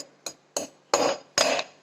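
Hard jaggery is pounded into crumbs with four sharp, hard knocks at uneven intervals, each with a short ringing tail, close and clear, no talk.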